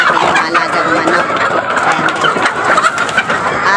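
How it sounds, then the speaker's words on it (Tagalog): A flock of pet chickens at feeding time on a rainy day makes dense, continuous clucking and squawking. The loud, close chatter is layered over constant background noise. "Ngayon magpapakain ako guys, samahan nyo ako magpakain ngayon ng ating malagang manok"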